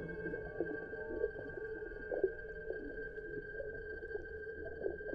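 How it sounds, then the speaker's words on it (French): Humpback whale song recorded underwater off Madagascar: a steady tonal line with repeated moaning, pulsing calls rising and falling over a constant hum, continuous and moderately faint. "Pour savoir à quoi servent les chants, il faut non seulement écouter les baleines"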